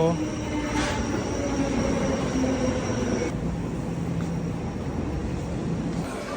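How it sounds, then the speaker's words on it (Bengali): A metro train rumbles steadily into a station in Shin-Yokohama, Japan, wheels grinding with a faint high squeal over a constant low roar. "চলে এসেছে মেট্রো।"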